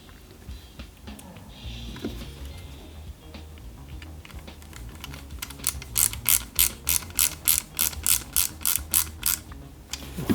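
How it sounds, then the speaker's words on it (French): Small screws driven into the plastic chassis of an Ecto-1 model kit, quiet fiddling at first, then a close run of rapid, evenly spaced ratcheting clicks from the screwdriver. "Donc je visse les 3 vis de chaque côté qui vont maintenir"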